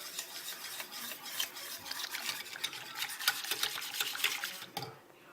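Cocoa powder and oil being stirred into raw chocolate, a steady close scraping and rasping of a utensil against the bowl that runs for several seconds before easing off.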